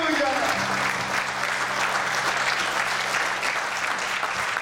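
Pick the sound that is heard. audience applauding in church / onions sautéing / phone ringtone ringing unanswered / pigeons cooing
audience applauding in church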